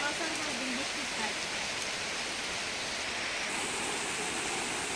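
Steady rain pours down on a rainy day in a Bangladeshi village, a dense, even hiss running unbroken throughout, with a faint voice murmuring low beneath it early on.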